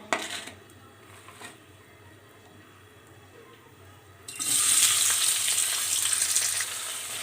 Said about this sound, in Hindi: तो अनियन को सौते करते हैं